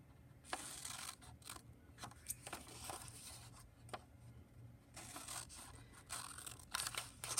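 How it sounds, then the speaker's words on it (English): Scissors cut through paper folded for an origami box in a string of short, quiet snips and crisp slicing strokes with small pauses, close by and alone. "I'm going to take some scissors and I'm going to cut on that line very, very carefully right up to the intersection"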